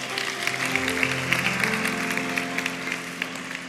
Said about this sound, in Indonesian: Kasih tepuk tangan untuk Roh Kudus